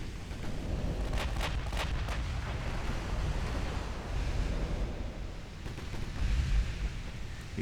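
Warship main guns fire in the naval battle game Ultimate Admiral Dreadnoughts, a few deep booming blasts over a constant roar of sea and wind, with a heavier rumble near the end.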